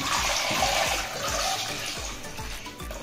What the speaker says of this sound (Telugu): ఇప్పుడు మెత్తగా మెతుక్కున్న పప్పులో వాటర్ పోసుకున్నాం.